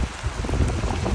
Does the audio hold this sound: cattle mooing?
no